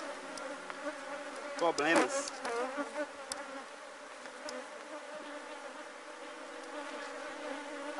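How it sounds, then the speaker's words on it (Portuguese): Many forager honeybees buzz around the hive boxes just after rain, a dense droning hum with individual bees swelling loudly past the microphone, while someone speaks briefly. "Tem muitas abelhas campeiras nas caixas."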